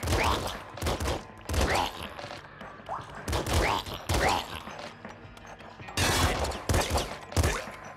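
An SMG fires in a video game: several sharp bursts of rapid shots, separated by brief pauses, at moderate loudness.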